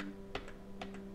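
A few quick keystrokes on a computer keyboard, soft and close, set against a steady low electrical hum with no voices.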